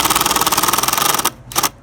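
Rapid, steady whirring of a power driver turning Phillips screws into a solar gate controller, loud and close, then a brief stop and a short second burst.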